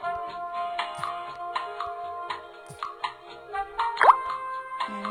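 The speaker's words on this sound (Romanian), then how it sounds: "Acum să punem o lămâie." A lemon slice drops into a glass of water in a bartender video game, giving soft plops and drips over a steady, tinkling game music loop, with one sharper splash near the end.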